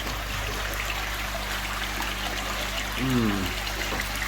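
Water trickles and splashes steadily as filter media pads for a koi pond filter are rinsed out, a continuous close wash with a brief voice murmuring partway through.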